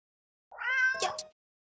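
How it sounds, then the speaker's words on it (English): A cat lets out a single drawn-out, plaintive meow lasting under a second, close and clear against silence. "It mews sadly, as if pleading you to come back"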